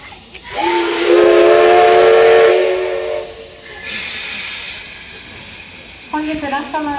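Steam locomotive C11325 on the SL Taiju line sounds a loud, sustained whistle as it departs, surrounded by hissing steam, followed by softer steam noise and a brief second whistle toward the end.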